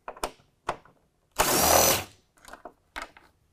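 Bolt being loosened and removed with a 10 mm tool on a car during a Putco Nitro-Lux LED low beam headlight bulb install, giving a few short close metallic ratchet clicks and taps and one longer burst of rattling in a quiet garage.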